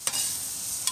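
A burger sizzles on a hot grill griddle outdoors, a steady close hiss of frying with two short sharper crackles near the start and end.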